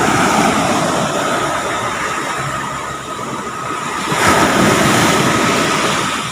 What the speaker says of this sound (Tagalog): lalaki ng hampas ng alon